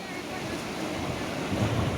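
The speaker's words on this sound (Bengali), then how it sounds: "এই হচ্ছে নদী" A Himalayan river near Jispa rushes in a steady broadband roar, mixed with gusty wind buffeting the microphone.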